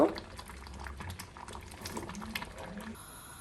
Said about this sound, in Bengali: আমি এখন ভালো করে খিচুড়িটা সিদ্ধ হতে দেব